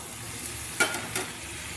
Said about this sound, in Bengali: মশলাটার মধ্যে ভালো করে নেড়ে ছেড়ে আমি কষিয়ে নেব যতক্ষণ না তেল ছেড়ে আসছে